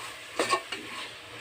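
Tomatoes and biryani masala get a brief stir in a cooking pot for a vegetable biryani, two or three quick close scrapes over a soft background sizzle, no talking.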